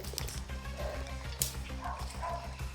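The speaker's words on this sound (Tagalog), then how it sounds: "May mga dala silang aso." Dogs yip and bark a few times over a constant low rumbling background noise.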